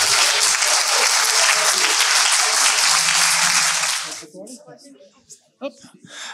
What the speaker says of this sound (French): vous pouvez les applaudir encore, oui.